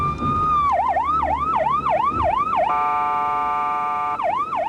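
An ambulance siren wails loud and close, sweeping up and down in a fast repeating yelp, then switching briefly to a steady tone before resuming the rising-falling cycle, with no talk over it.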